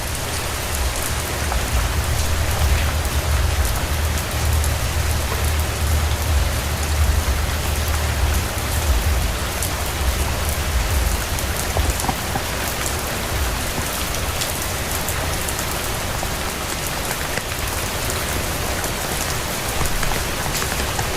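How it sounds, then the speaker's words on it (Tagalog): A sudden heavy monsoon (habagat) downpour hammers down nonstop, loud and dense rain striking surfaces, with a deep rumble underneath for the first half. "biglang buhos ng ulan"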